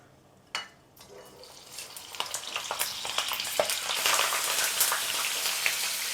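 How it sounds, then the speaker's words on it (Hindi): Slit green chillies with seeds partly removed drop into hot oil and begin frying, a sudden splash followed by a crackling sizzle that builds steadily into dense, loud bubbling. "मिर्चें जाएंगी इस ऑयल के अंदर।"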